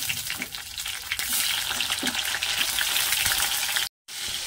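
Tomato frying in hot oil with black cumin and bay leaf in a pan, a loud, steady crackling sizzle with stirring scrapes, cutting off briefly near the end before resuming.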